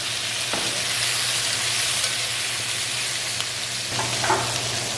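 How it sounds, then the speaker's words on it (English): Shrimp sizzle and fry in hot oil in a pan while being stirred, a steady close crackle running throughout with faint scraping of the utensil. "We're gonna go ahead and stir these around real quick, get that oil all over them"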